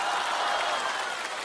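Broad, steady audience applause fills a Spring Festival Gala stage comedy sketch, dense and even throughout with no talk over it.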